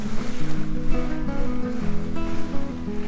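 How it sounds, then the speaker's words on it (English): A sailboat under a double-reefed main and full jib moves across a flat sea in the Small Cyclades in a moderate wind, with steady water rush and wash around the hull and a low continuous hum beneath. "So good sailing today on a flat sea with a reasonable wind, not excessive"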